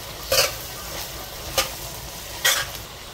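Vegetables with corn and black beans are stirred in a sizzling pot, three distinct scraping strokes over a steady frying hiss, close and clear with no talking.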